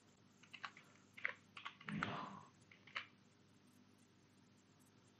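Java code being typed on a computer keyboard: a run of quick, light key clicks in uneven bursts, close and fairly soft, with a longer cluster partway through and then quieter gaps.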